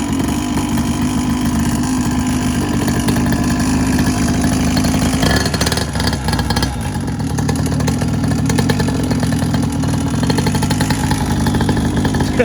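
Quad bike engine running with the choke on, a loud, steady, rough idle with a dense mechanical drone that wavers briefly midway before settling again.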